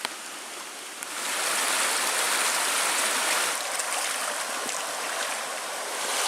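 Small stream near Lake Superior in the Porcupine Mountains, Michigan, flowing as a steady close rush of water that swells after the first second and holds evenly, with no voices.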